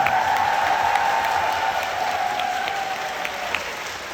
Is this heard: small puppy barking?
no